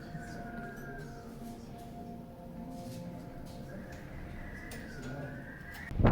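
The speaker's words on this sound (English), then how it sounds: "there's a nice little bird right there." A small bird calls at the Grand Canyon South Rim, its steady rising whistles and coos repeating faintly over outdoor wind and ambience, with a sharp close knock at the very end.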